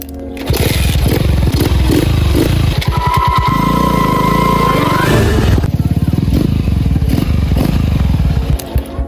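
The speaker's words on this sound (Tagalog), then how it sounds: "padunggar gud ko sa tingog sa atong motor" A motorcycle engine runs steadily and loudly up close, revving and idling with a rough mechanical rattle throughout.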